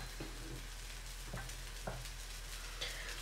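Semolina harcha galettes cook in a pan with a steady, even sizzle and a few soft scraping taps spaced through it, no voices.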